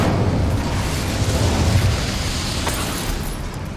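Incendio fire spell cast in Hogwarts Legacy, a loud, dense roaring burst of flame that holds steady for several seconds with deep rumbling underneath.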